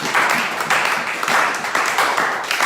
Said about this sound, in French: On acclame fortement le Seigneur.